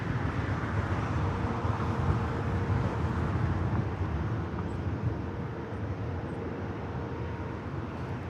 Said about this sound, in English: this is Korean Air Flight 18 heading back to Seoul in the 747-8 Intercontinental